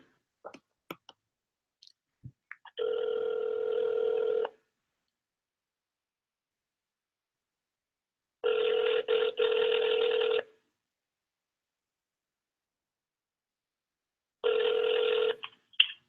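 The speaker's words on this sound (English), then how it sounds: "Maybe we can get them on the phone." A telephone rings on an outgoing call to the Jet Propulsion Laboratory, with three separate two-second ring bursts spaced by long silences and a few faint clicks at the start.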